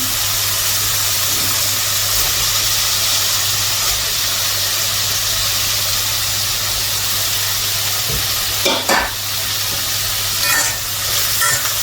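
Fish fries in hot mustard oil with a steady, loud, hissing sizzle that runs on continuously, punctuated by a few brief bursts of spattering and stirring noise near the end.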